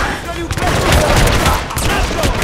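Heavy gunfire fills a Hitman Absolution shootout, a loud, dense fusillade of rapid shots with a voice shouting partly under it.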